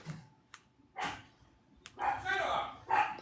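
Several household dogs bark and yip in short, sharp bursts indoors, loud and close, with a voice heard between the barks.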